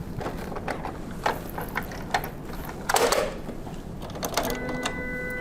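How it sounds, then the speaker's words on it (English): Entrust Datacard card printer being closed and latched, a sequence of plastic clicks, a ratcheting slide and a firm latch snap at close range, followed by a faint electronic hum. "Finally, we'll reload the cardstock and close and lock the printer."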